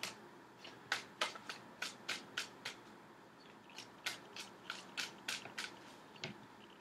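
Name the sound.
shuffling tarot cards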